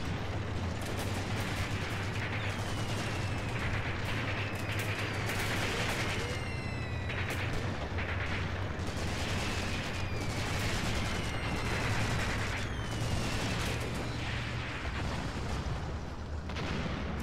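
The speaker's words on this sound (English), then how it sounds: "it might be because of that annoying machine gun directly ahead of us" Machine-gun fire and steady battle din from the tactics war game Graviteam Tactics: Mius Front, a constant dense roar with rapid shots and distant booms layered throughout and no voices.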